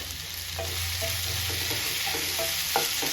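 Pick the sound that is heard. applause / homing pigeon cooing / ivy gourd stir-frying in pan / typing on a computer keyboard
ivy gourd stir-frying in pan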